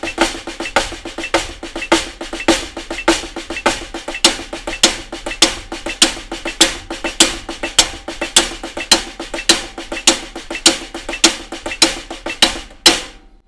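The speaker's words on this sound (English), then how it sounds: "So you can hear that the snare drum is staying 16th notes all the time" Snare drum played as steady sixteenth notes with accents on the "e" counts and no flams, a dense even stream of crisp strokes running alone for the whole stretch.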